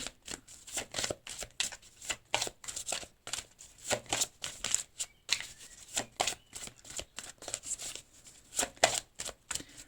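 Tarot cards are shuffled and drawn in a quick, rhythmic series of crisp riffling bursts, close and clear with no talking.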